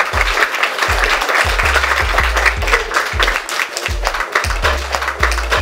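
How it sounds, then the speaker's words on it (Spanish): A studio audience bursts into sustained applause to welcome a guest on a Spanish-language show, dense clapping with rhythmic low thumps running steadily throughout. "Démosle la bienvenida y un fuerte aplauso a Montserrat Valerí"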